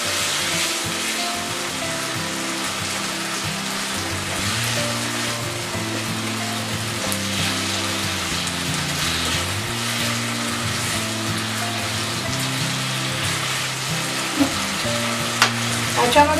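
Spring onion whites sauté in a pan for chicken chilli, giving a steady, continuous loud sizzle that runs throughout with light stirring and a few small clicks near the end.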